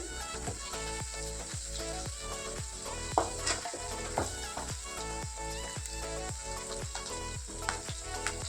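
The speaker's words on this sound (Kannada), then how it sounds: "ಬೆಳ್ಳುಳ್ಳಿ ಒಂದು 2 ಮಿನಿಟ್ಸು ಚೆನ್ನಾಗಿ ಫ್ರೈ ಆಗಲಿ" Garlic and curry leaves frying in oil for a chicken or egg pickle make a steady, hissing sizzle that runs beneath rhythmic background music.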